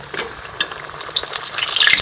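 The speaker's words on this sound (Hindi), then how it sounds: "पूड़ी जो है वो फ्राई कर लेंगे।" Potato puri deep-frying in hot oil, a close, steady sizzle with crackling pops that grows louder and denser toward the end.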